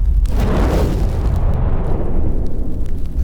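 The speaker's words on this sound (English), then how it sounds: "A gun goes off." A gunshot sound effect in a music soundtrack, a single heavy boom with a long rumbling tail that fills the whole moment, loud and alone.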